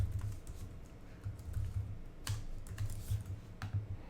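Fingers type on a computer keyboard, quick clusters of soft, close clicks with small pauses between bursts, alone and fairly quiet.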